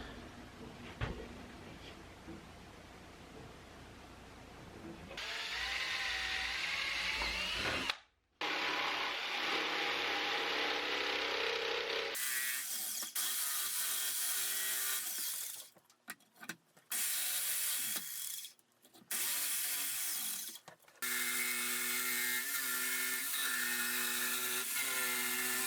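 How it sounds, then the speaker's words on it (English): A jigsaw cuts a track through a wooden gantry piece, with several bursts of close, buzzing harmonic whine broken by short pauses and a stretch of quieter handling noise at the start. "use my jigsaw here to cut that track in both of these pieces here"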